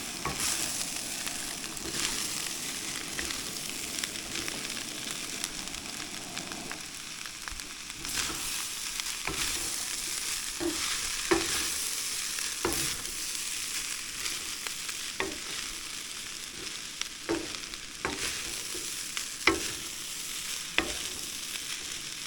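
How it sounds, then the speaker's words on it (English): Barbecue pork frying in a pan over a camp stove, a steady close sizzle with occasional scraping taps as the meat is mixed around. "And I throw in my barbecue pork. And just mix all this together."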